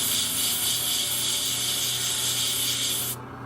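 An airbrush spraying paint onto small vehicle parts gives a loud, steady hiss with a rough, sputtering edge, then cuts off abruptly just before the end.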